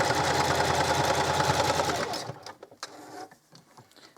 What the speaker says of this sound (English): I'm just going to stitch straight down the middle of this